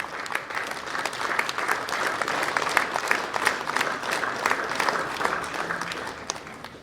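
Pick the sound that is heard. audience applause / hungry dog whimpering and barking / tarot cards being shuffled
audience applause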